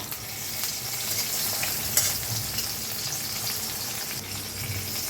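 An egg fries in a pan with a steady, close sizzle while it is slowly turned over, a few light scraping touches breaking through the continuous hiss.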